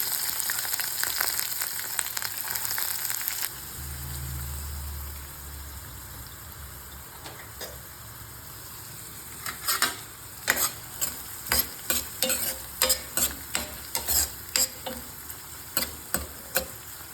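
Curry leaves, dried red chilies and onions fry in a pan, first with a loud crackling sizzle, then quieter frying punctuated by a regular series of sharp spoon scrapes and taps against the pan, heard close with no voices.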